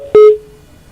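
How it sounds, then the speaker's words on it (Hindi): A single electronic tone as a phone line drops during a live call on a news broadcast: a sharp broadband click, then a steady beep that holds briefly and fades over under a second, alone with no talk. "लगता है शायद ये फोन डिस्कनेक्ट हुआ है"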